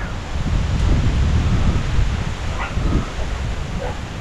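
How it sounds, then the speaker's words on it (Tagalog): Strong wind roars and buffets steadily across the whole clip, with gusty low rumble and blustery noise and no voices. "Lakas ng hangin."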